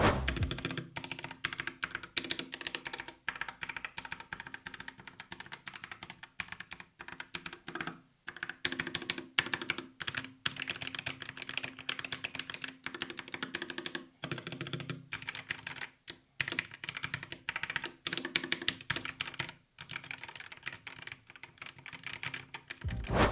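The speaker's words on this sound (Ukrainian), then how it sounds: "давайте послухаємо тайпінг даної клавіатури" Steady typing on a GamePro MK130G Pro compact 60% wireless mechanical keyboard, close and continuous, with rapid clacky keystrokes and occasional brief pauses, no voices.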